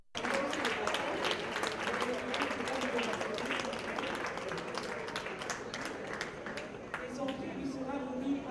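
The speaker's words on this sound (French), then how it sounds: "sous les applaudissements des invités" Guests at an award ceremony applaud with sustained, dense clapping that holds steady across the whole stretch, moderately loud, with a voice speaking over it.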